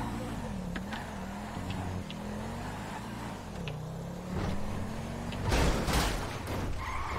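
A car crashes in GTA 5: an engine drones steadily with shifting pitch, then a burst of loud impact noise breaks in near the end, with people talking over it.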